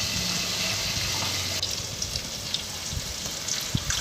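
Cold water gushes steadily into a pan of fried egg curry masala, a close, continuous pouring and splashing sound that softens toward the end, with a few small clicks.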